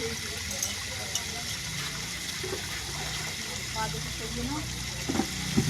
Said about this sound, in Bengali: এদিকে কলে জল পড়ছে